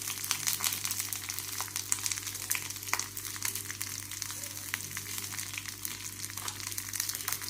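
Garlic, coconut, a chili, coriander, peanuts and cumin fry in oil for a karela chutney, giving a soft, steady crackling sizzle with occasional stirring scrapes, fairly quiet and close.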